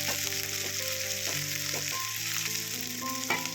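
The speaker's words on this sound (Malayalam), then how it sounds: "ചുവന്നുള്ളി, ഒരു 3-4-5 പച്ചമുളകും ഇതുപോലെ ഇട്ട് കൊടുത്തിട്ട് ഒന്ന് വഴറ്റിയെടുക്കാം." Shallots and green chillies sauté in hot coconut oil with mustard seeds, giving a steady close sizzle that runs unbroken throughout, with faint tonal sounds in the background.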